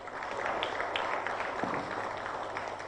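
Sustained applause from an audience for the guest of honor, an Honorable Minister, at Uganda Water and Environment Week 2021, a dense even clatter of many hands lasting about three seconds with little speech.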